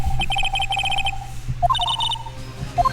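Electronic phone ringtone from the courtroom game Phoenix Wright: Ace Attorney, a bright repeating chirp pattern in two bursts with a short pause between, played clearly at moderate volume over a low background hum.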